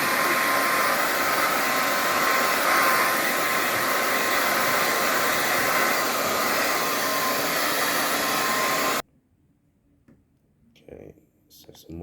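A blow dryer dries off a freshly cleaned silk screen for shirt printing, a loud steady roaring whine running for about nine seconds before cutting off abruptly, followed by quiet handling sounds.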